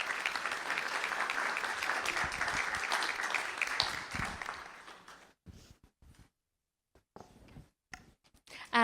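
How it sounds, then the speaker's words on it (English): A room of people applauds students at a school board meeting, steady dense clapping for about five seconds that then thins into a few scattered claps and quiet moments. "Let's give our students a round of applause."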